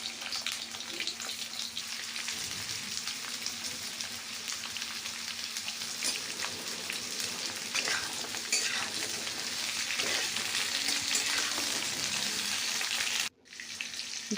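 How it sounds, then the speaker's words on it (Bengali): Pointed gourd (potol) sizzles steadily in hot oil in a home kitchen. A dense, even crackle runs throughout, with scraping stirs now and then and a brief drop in sound near the end. "তাতে পটলগুলো দিয়ে ভাজতে শুরু করলাম।"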